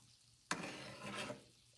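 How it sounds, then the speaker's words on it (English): Food hits a hot pot with a sudden loud hiss, sizzling strongly for about a second before fading to a quiet crackle. "I like to hear the sizzle."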